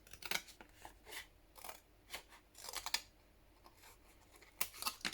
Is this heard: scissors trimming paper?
yes